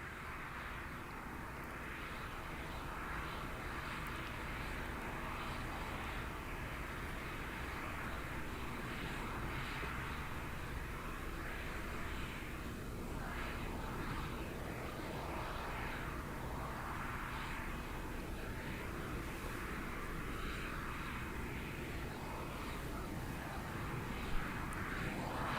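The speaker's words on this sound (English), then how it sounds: "The shuttle carrier aircraft, the modified 747, has 4 Pratt & Whitney gas turbine engines" The modified Boeing 747 Shuttle Carrier Aircraft, powered by four Pratt & Whitney gas turbine engines, gives a steady, continuous jet roar at Kennedy Space Center, with a faint voice now and then.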